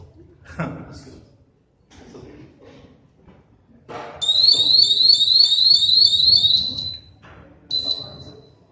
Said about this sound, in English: If I take this out, it'll start beeping.